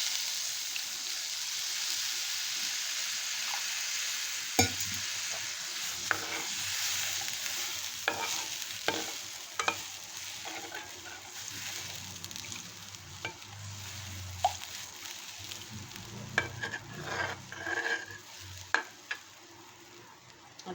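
A restaurant-style Veg Maratha gravy simmers in a pan, with a constant soft bubbling hiss broken by irregular scrapes and knocks of a spoon stirring, heard close and alone.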